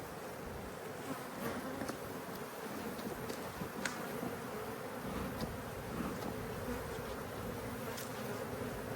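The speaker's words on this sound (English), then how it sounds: "This bee won't leave me alone." Honeybees buzz around a beekeeper during a hive inspection, a continuous close droning hum with individual bees zipping past the ear now and then, heard alone without talk.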